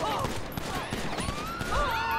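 Rapid bursts of gunfire in GTA 5 with the LSPDFR police mod, a short loud volley of shots crackling under talk and game sounds.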